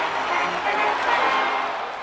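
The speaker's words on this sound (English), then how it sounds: "Lloyd George was hailed by the jubilant crowds as the man who won the war." Jubilant crowds celebrating the end of the Great War, a dense, steady roar of many voices cheering and shouting, with scattered clapping blended into the continuous wash of sound.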